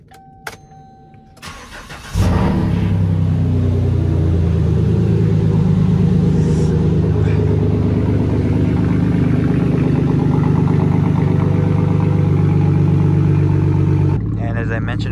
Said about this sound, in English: I'm gonna show you guys today's cold start